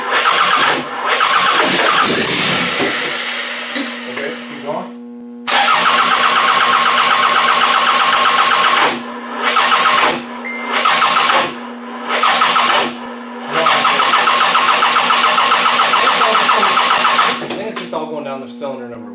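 A Toyota Camry engine with a hot-wired distributor and a carburetor, cranking repeatedly in loud bursts with short pauses between attempts and a steady mechanical hum underneath, while people talk nearby.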